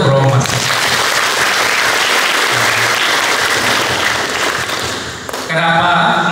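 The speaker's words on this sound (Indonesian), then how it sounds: "Tepuk tangan untuk Romo Mas." A crowd at an officers' installation ceremony breaks into loud, sustained applause, with steady clapping that fades briefly near the end before a voice resumes speaking over it.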